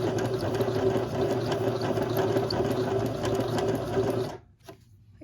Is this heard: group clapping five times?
no